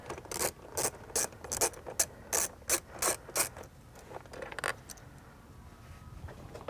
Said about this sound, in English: To do this, you'll need your 10mm ratchet again.